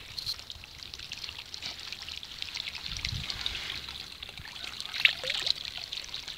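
Water from a natural spring flows and trickles constantly, a steady close splashing stream that does not let up, with faint outdoor rustling and small knocks mixed in.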